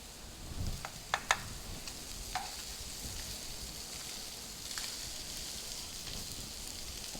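Thick wild-caught scallops searing in a pan on high heat, a soft steady sizzle with a few sharp clicks and taps near the start, no voices.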